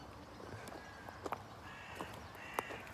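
Birds calling outdoors under an open morning sky, a few faint, brief caws spaced irregularly over soft background noise, distant and quiet.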